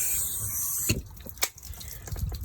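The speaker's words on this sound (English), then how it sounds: "as you can see it's pouring out, and that's the siphoning effect" Water siphons out of a hose after filling a Zefiro 675's water tank to 20 litres, a faint hiss and trickle broken by a couple of sharp knocks and splashes, with no talk.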